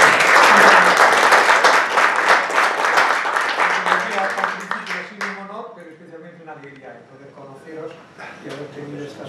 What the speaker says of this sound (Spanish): Os pediría un aplauso para entrar